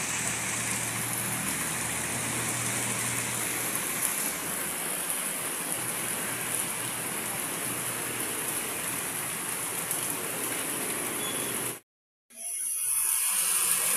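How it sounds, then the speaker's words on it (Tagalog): Heavy rain pours steadily in a dense, continuous hiss, then cuts out for a moment before returning, as flooding sets in. "lalong lumakas yung ulan oh"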